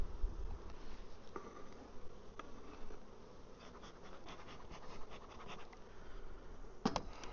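Honey bees hum steadily at an open hive during a swarm check, a faint continuous buzz with soft handling knocks and a brief clatter near the end.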